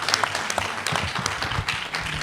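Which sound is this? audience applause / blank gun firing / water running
audience applause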